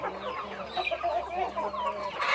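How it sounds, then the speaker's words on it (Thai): Several barred chickens cluck and murmur close by, overlapping soft clucks continuing throughout. "ไก่ลาย"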